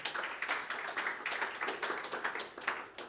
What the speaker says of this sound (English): I will just ask for applause.